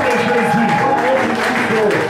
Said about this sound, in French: Est-ce qu'on peut ajouter des acclamations pour notre Jésus?